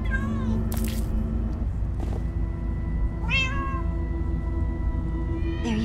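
Several cats meow in the video game Minecraft: Story Mode, with repeated close meows rising over a steady bed of game music and ambience, no talk.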